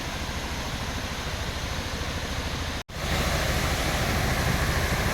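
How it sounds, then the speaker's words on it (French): A waterfall at Bao Loc in Vietnam gives off a steady, dense roar of rushing water that cuts out for a split second midway, then resumes just as full and loud. "Et ici effectivement une très belle cascade"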